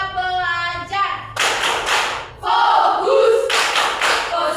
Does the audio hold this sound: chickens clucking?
no